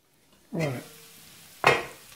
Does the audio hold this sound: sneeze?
no